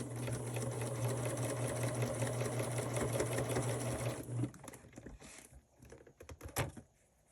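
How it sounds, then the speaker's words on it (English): A sewing machine stitches a quilt block along a diagonal line, its steady close motor hum running for several seconds before stopping, followed by a few light clicks and handling taps. "And then you're going to stitch this on this diagonal line."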